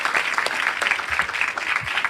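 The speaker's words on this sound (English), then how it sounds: "I think she needs a big round of applause for the great work that she is doing." Audience applause in a hall at a college innovation event, close and fairly loud, with individual claps distinct in a brisk, uneven rhythm.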